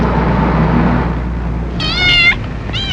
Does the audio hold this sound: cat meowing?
yes